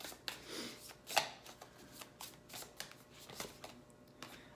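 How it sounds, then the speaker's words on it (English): Tarot cards being shuffled by hand at a reading table, a quiet run of soft riffling slaps and paper flicks with a few sharper snaps, faint and close with no speech. "3 shuffles."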